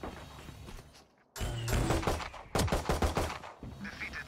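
Rapid gunshots in Valorant, a sharp opening shot followed by a quick string of bursts from an automatic weapon, close and loud, with no talk over them.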